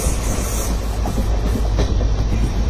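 Mandovi Express 10103 on the Konkan railway runs past with a loud, constant rolling roar and faint clickety-clack of wheels, heard close and without any talk.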